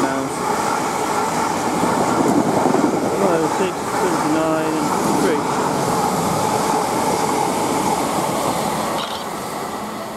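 South Western Railway Class 444 and Class 450 electric trains pass St John's near Woking: a steady, loud, close rumble of wheels with rhythmic clacking over rail joints throughout, easing slightly at the end.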